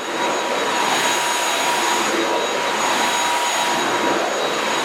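A Heifer Quiclean Pro 22.2 V cordless stick vacuum cleaner runs steadily, giving a constant airy whoosh with a faint high whine on top.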